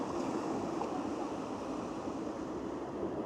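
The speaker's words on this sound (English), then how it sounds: "just listen to the sea as well, lapping up against the sea wall." Continuous rushing wash of sea water against a sea wall at Blackpool at sunset, steady and moderately loud with no distinct breaks or voices.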